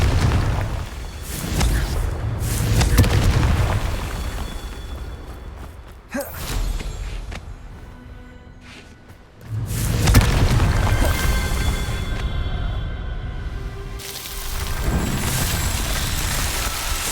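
Confringo fire spells from the video game Hogwarts Legacy burst in repeated loud booming blasts with rumbling tails, separated by brief lulls, with no talking.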